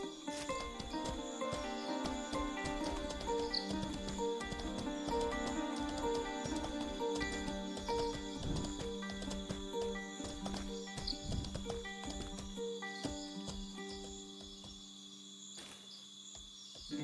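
Horses stamping and shuffling inside a building in the video game Mortal Online 2, with steady clip-clop hoof knocks and occasional snorts over a continuous insect-like chirr and tonal ambient hum.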